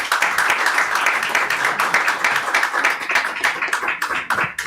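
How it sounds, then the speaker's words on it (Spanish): Welcoming applause for the author Adelaida Fernández at a novel presentation conference, with steady dense clapping from a room audience that holds evenly throughout. "Le pido un aplauso de entrada."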